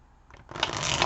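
Oracle cards being shuffled for a weekly tarot reading: a soft papery riffle that starts faint, then swells into a close, steady rustle of cards sliding over one another for about a second, with no talking.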